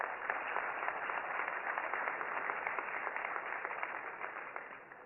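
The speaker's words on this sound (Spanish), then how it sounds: "Recibamos con un fuerte aplauso al maestro Abraham Zamora." Audience applause fills an event hall as a guest is introduced, a dense, steady wash of many hands clapping together at moderate volume that holds without a break and eases slightly toward the end.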